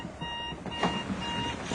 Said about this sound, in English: Pete, your alarm clock is ringing.